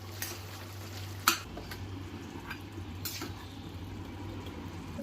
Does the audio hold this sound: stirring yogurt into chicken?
yes